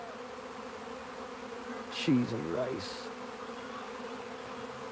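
A large ball of honeybees in a swarm on a farmstead gives a steady, fairly faint insect hum that runs through the whole stretch, with a brief louder buzz of nearby bees partway through. Two people speak briefly at the same time.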